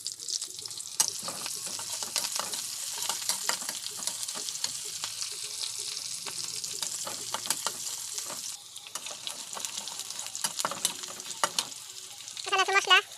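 Green chilies fry in hot oil with a dense, steady sizzle and crackle, close and fairly loud, broken by sharp spatters and stirring scrapes, with no one speaking.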